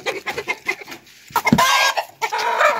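A rooster calls up close: a quick run of short, clucking notes, then a louder, drawn-out call that breaks off briefly and starts again, with no talk.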